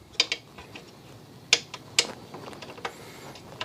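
Sharp ratcheting clicks come as an Allen key loosens two M8 Allen head bolts on a TAO TAO ATV, a few quick close metallic ticks spaced irregularly over quiet background.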